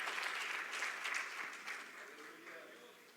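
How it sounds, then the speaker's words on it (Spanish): A church congregation applauds, a dense wash of clapping that starts full and gradually fades over a few seconds, fairly distant and soft, with a voice speaking over it. "Dale un fuerte aplauso a nuestro Dios."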